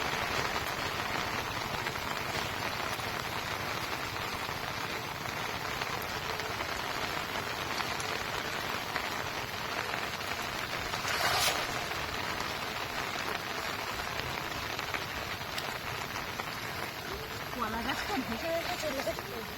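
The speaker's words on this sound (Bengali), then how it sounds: "আজকের এই বৃষ্টি ভেজা পর্বটি" Steady rain pours down on a rainy day in the Sundarbans during a fishing trip, a dense, continuous hiss of drops on surfaces with a brief louder burst midway, heard alone throughout.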